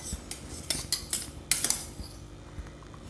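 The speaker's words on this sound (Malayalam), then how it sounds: "എന്നിട്ട് നന്നായി ഒന്ന് മിക്സ് ചെയ്തെടുക്കാം." A spoon stirs and scrapes through curd and ground coconut paste for a cucumber side dish, giving irregular clinks and taps against the bowl, fairly close, with no talking.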